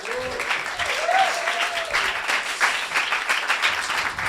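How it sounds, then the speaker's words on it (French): An audience at a coding bootcamp demo day applauds a team joining the presenter on stage, a sustained, dense patter of many hands, steady and moderately loud, with a voice briefly heard early on. "On peut applaudir l'équipe aussi, Nicolas, William."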